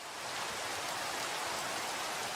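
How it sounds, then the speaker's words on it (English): Steady rain falling, a dense even hiss of drops on surfaces with no pauses, close and fairly loud throughout. "Rain here in Washington."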